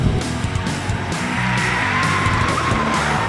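A 2022 Mini John Cooper Works accelerating hard on a fast lap, its engine note rising steadily with a climbing whine and tire noise, loud and close, with no talk.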